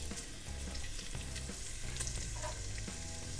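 Shallot frying gently in a pot on low heat, giving a soft, steady sizzle with faint stirring scrapes and no voices.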